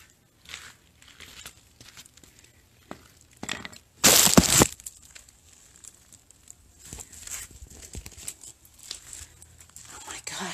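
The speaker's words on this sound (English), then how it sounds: "the whole thing is just shattered" Tempered glass shattering after being struck with a screwdriver while preparing it for mosaics, a loud sudden burst of breaking at about four seconds, followed by scattered small crackles and pops as the fractured pane settles, with faint talk around it.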